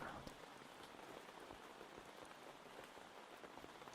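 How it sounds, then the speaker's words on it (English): Rain falls steadily on a tent, a dense patter of drops at a constant soft level, close and enveloping, with no voices present. "we're going to sit back and listen to the rain for a little bit longer."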